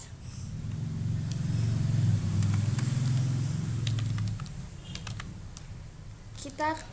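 Someone types on a computer keyboard while entering Excel formulas, short crisp key clicks tapping out in quick irregular runs over a low steady hum.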